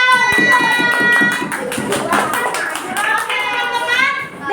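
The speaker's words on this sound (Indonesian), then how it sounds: "Tepuk tangan." Children clapping their hands together in a classroom, a quick patter of claps mixed with young voices chattering throughout.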